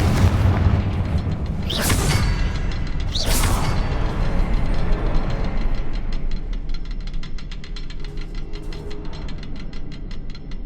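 Confringo spell cast in a Hogwarts video game: two quick bursting explosions early on over a dense, constant game soundscape of rumbling and mechanical clatter, with a rapid ratcheting texture continuing afterward.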